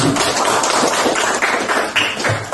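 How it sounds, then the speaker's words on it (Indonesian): An audience claps for a student presenter at a school charity talk, a steady burst of many hands with scattered sharper claps, loud and close throughout. "berikan aplaus buat Ziran"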